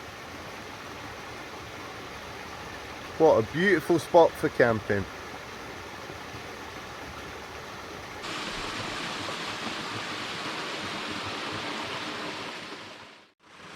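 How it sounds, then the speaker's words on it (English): A small waterfall at a wild camping spot gives a steady, broadband rushing wash throughout. It swells louder partway through and then drops away at the very end, with a few seconds of speech near the start. "And over here we got a lovely little waterfall."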